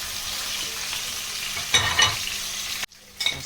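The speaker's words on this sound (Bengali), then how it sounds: "এবার আমি মাছগুলো সব ভেজে নেব হালকা করে।" Hilsa fish pieces frying in hot mustard oil give a loud, continuous sizzle, with a couple of bumps as the fish is moved and a sudden brief dropout near the end.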